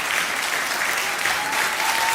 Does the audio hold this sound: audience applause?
yes